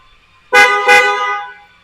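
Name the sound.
stock car horn of Ford Everest Trend 2026 honking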